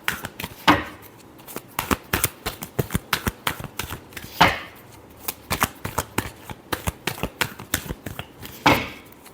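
Tarot cards being shuffled by hand, rapid clicking riffles in repeated bursts, with three heavier flaps where the deck is squared, close and clear.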